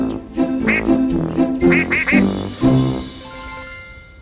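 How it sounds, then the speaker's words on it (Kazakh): A duck quacks close and loud, about eight nasal calls in quick, uneven succession, then fades out. "Үйрек."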